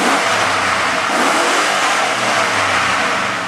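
A 6.0-litre LS LQ4 V8 engine with 182K miles, warmed up and revved hard, a loud sustained roar close by with no talk.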